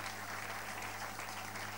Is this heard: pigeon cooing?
no